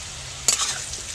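Giant taro (maan kochu) being stirred as it fries in a pan: a quiet hiss, then a sudden scraping, sizzling burst partway through that fades into a softer crackle with a small flare near the end.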